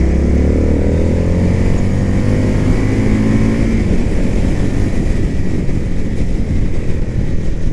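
An Indian FTR S motorcycle being ridden, its engine holding a loud, steady rumbling drone close to the listener, with harmonics that shift early on and wind noise rushing past, no voices.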